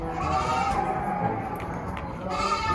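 Goats bleat on a Philippine farm during a buyers' visit, several overlapping calls rising over a steady background murmur of people talking nearby.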